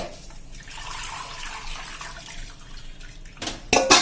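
Water splashes and trickles into a container holding moong beans, growing louder in a short burst of pouring at the end.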